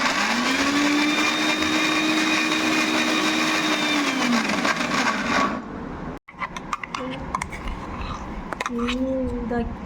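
An electric mixer grinder whirs loudly while blending a ragi milkshake, a steady high motor whine for several seconds that cuts off abruptly, followed by a thump and a voice talking nearby.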